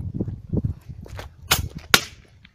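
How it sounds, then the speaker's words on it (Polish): Two sharp bangs from a double-shot firecracker in quick succession, loud and close, following some low rustling and footstep-like thuds. "zwykła taka petarda dwustrzałowa od śmieszka, dosyć mocna"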